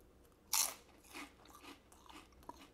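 Crunchy fried Chinese takeout food being bitten and chewed close up: one sharp crisp bite followed by quieter crunching chews, softly recorded in a quiet room.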